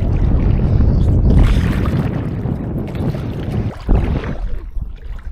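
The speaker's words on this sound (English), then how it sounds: "Gee, this wind sprung up." Wind gusting across a lake, a steady broadband rush with buffeting against the microphone, swelling and easing over a few seconds with a brief louder gust near the end, no talk.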